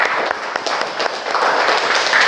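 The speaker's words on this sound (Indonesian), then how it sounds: "Oke, berikan tepuk tangan untuk kelompok 1." Classroom applause for a student group after its presentation, a dense, continuous burst of clapping from a group of people, close and steady for a couple of seconds.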